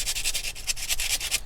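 Sandpaper rubbed back and forth over a brake pin from a Honda Deauville 650 rear brake, a close, rhythmic scratchy rasp of quick strokes.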